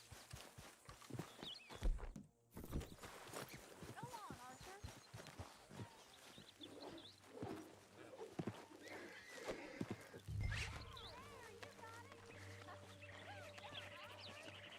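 Horses in Red Dead Redemption 2 whinny loudly and clop their hooves at a walk, with footsteps, a rooster-like fowl call and game character voices talking over the scene.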